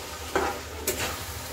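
Chicken roasting in a pan gives a faint, steady sizzle, broken by two quick stirring scrapes from a spoon against the pan.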